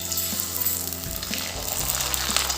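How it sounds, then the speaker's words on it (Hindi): Thin sabudana papad fry in hot oil with a loud, continuous close crackling sizzle and a few soft bubbling pops, no voices. "तो अब मैं यहाँ पर साबूदाना पापड़ फ्राई करके दिखाती हूँ"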